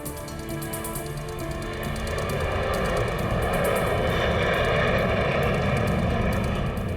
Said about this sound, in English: So that plane that just took off was the last flight into Petersburg today.